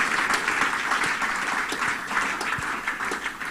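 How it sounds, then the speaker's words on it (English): During a church service the congregation claps loudly and continuously, a thick wash of many hands with a few sharper individual claps standing out near the front. "I thought you were clapping well for the Lord."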